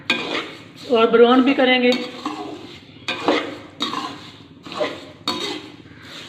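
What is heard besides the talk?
spoon stirring melting sugar in a pan for halwa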